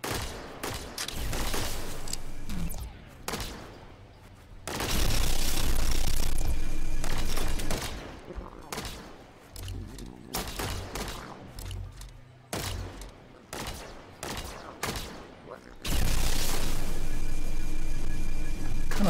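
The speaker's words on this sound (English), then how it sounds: "I kind of like my assault rifle a little better than the lance thing." An assault rifle firing in The Signal From Tolva, sustained loud bursts of automatic fire, close and heavy, coming in long stretches separated by quieter gaps.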